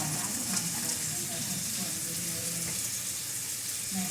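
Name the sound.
sliced green peppers sizzling with Italian sausage in pot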